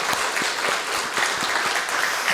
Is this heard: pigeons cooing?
no